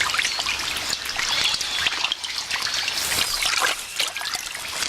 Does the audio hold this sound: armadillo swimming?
yes